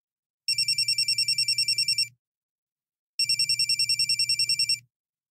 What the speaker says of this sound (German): Da klingelt das Handy des Friedhofswärters.